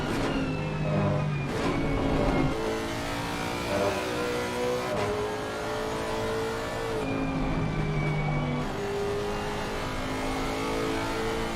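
A Lexus GT3 race car at Watkins Glen in Assetto Corsa Competizione, heard from the cockpit: the engine revs up in rising whines, drops sharply on downshifts for a chicane, then climbs through the gears again.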